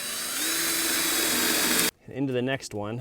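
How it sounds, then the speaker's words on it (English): Power drill boring through two stacked 2x4 boards while mounting an axle for a chicken shelter, a steady loud whine for about two seconds that cuts off abruptly, then someone talks briefly. "This is where I'm going to attempt to drill through both of these in somewhat of a straight line."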